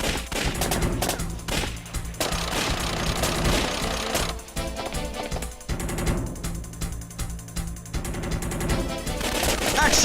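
Rapid automatic gunfire and dense bursts of shots from the Time Crisis on-rail arcade shooter, loud and nearly continuous for the whole stretch, with brief pauses between volleys amid busy game sound effects.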